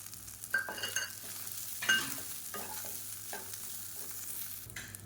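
Curry leaves, tamarind and grated coconut sautéing and being stirred in a pan for a coconut side dish, with a low steady sizzle broken by a few scraping stirs of the spoon.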